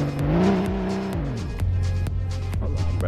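A video-game race car revs hard and its tires squeal in a short, continuous burst, the engine note rising and then falling, with sharp skid squeaks over a steady low drone.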